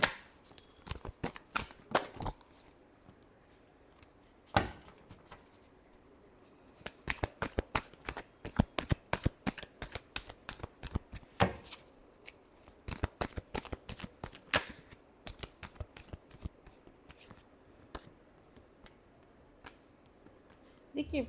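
Tarot cards being shuffled in repeated bursts of crisp riffling and slapping, with short pauses between rounds; the sound is close and fairly quiet, and no one speaks over it.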